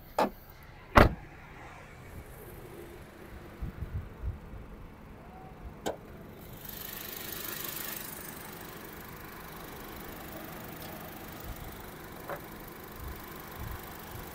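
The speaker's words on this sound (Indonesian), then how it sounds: "Dari suara mesinnya masih bagus" A 2013 Honda Jazz RS GE8 with automatic transmission idles steadily at close range, a low continuous engine hum under a few sharp clicks and knocks near the start.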